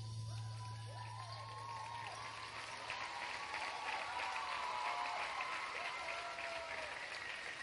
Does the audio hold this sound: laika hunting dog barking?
no